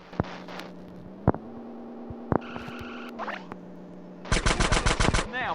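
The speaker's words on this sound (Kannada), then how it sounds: "ಎಲ್ಲೋ ಶೂಟ್ ಮಾಡ್ತಿದ್ಯಾ?" Gunfire in GTA San Andreas during a mansion shootout, with scattered single sharp shots over a steady low engine-like hum, then a loud rapid burst of automatic fire near the end.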